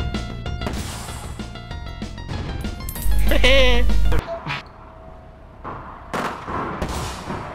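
Gunfire in the video game APB Reloaded comes as a rapid scatter of sharp shots and impacts, loud and close, mixed with game sounds and a burst of voices talking.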